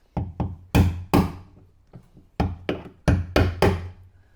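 Plastic door moulding clips on a Land Rover Freelander 2 are forced off one after another, giving a run of loud, sharp knocks and pops close by, irregularly spaced, with no speech over them.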